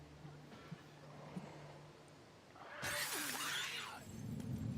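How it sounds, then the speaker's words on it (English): Glass shatters loudly in The Last of Us Part 2, a sudden bright crash with a sustained glittering spray of shards following a quieter stretch of game ambience. "Let's see if they'll break the glass for me."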